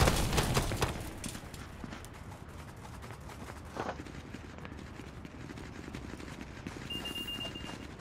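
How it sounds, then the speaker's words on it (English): Many small footsteps patter and shuffle behind the player during a match of the VR shooter Contractors, a dense rapid scurry running continuously under general game noise, strongest at the start. "Sounds like there's a lot of little feet behind me."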